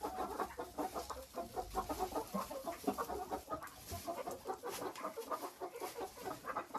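Chickens, including a mixed-breed Araucana-cross hen, cluck in quick, busy bursts in a poultry yard, quiet and fairly close, with overlapping calls throughout.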